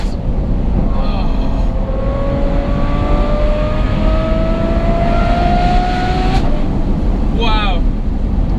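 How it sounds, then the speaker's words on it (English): Loud, steady engine roar from a Ferrari F12 with a Novitec N Largo exhaust kit, its tone climbing smoothly under acceleration against a dense rumble, with a brief squealing flutter near the end. "The exhaust tone on this thing, I've got to say, it must be closer to being in the receiving end of a fighter jet engine to the face"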